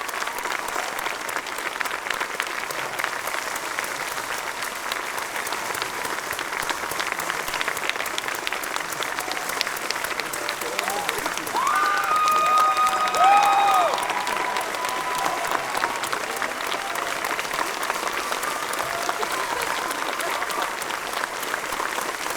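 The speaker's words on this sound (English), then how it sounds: "Big round of applause" An audience at a Mass Effect panel at PAX 2013 claps steadily, a broad wash of applause that swells slightly in the middle before settling back to a constant level.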